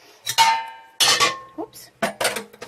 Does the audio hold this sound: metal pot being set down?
yes